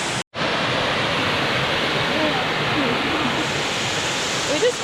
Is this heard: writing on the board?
no